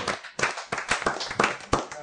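A theatre audience at a chansonnier comedy show claps after a joke in a burst of close, uneven applause, with individual hand claps standing out in an irregular rhythm.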